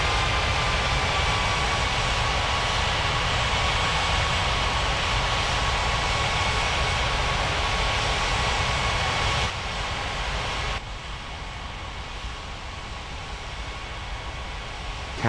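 Jet engines of a Qatar Airways Boeing 777-300ER taxiing, a steady, loud broadband roar with a faint whine that holds evenly before dropping slightly in level near the end, with no voices.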